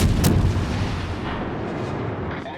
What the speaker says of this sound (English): I'm shooting at the Wix here with high explosive